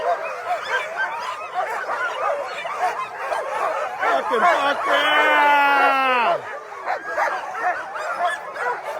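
A crowd of sled dogs at the start of the Willow 300 mid-distance race barks and yips continuously, with a long rising-falling howl in the middle, while someone shouts excitedly over them.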